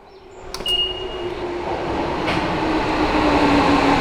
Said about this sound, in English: I just missed the train